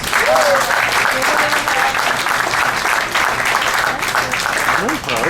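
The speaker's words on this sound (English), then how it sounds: "Give Rosa a big round of applause." A cruise-ship show audience gives loud, sustained applause for a young helper named Rosa, dense clapping with cheering voices and a few whoops rising over it.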